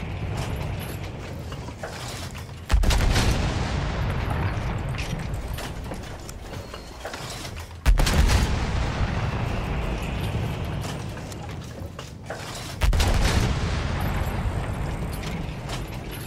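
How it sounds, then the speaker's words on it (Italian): Heavy enemy artillery in the World War I shooter Battlefield 1 lands as three loud booming impacts a few seconds apart, each followed by long rumbling, grinding battlefield noise. "Artiglieria nemica!"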